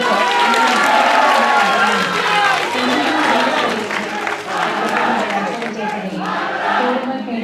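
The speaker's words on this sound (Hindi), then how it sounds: "अपने दोनों हाथ तालियों के साथ।" Audience applause and cheering fill a movie hall at a screening of The Kerala Story, a loud, dense crowd roar with clapping that holds steady throughout, with some voices shouting within it.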